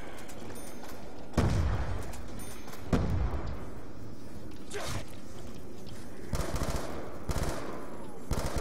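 Gunfire from two weapons in Call of Duty Black Ops II Zombies on the Town map: separate sharp shots and short bursts spread across the stretch, with quieter game ambience in between and no talk.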